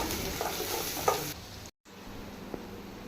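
Onions sautéing in a pan for a Sunday prawn curry meal, a steady sizzle with a few stirring scrapes, briefly cut to silence midway before the frying resumes close by with no talk.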